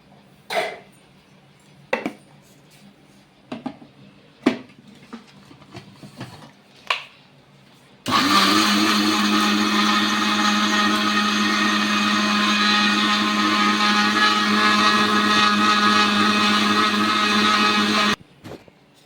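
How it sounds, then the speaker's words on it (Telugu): A kitchen mixer grinder blends homemade cleaning powder after a few scattered clinks and handling knocks; the motor then roars loudly and steadily for about ten seconds before cutting off abruptly. "ఇప్పుడు మిక్సీ అయితే పట్టేసుకుందాం"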